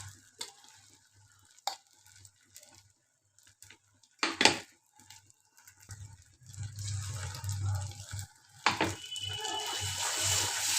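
Cashew and mustard paste is poured into a hot pan for a prawn malai curry and stirred, giving sharp scraping clicks, then a building sizzle and bubbling that stays steady and close.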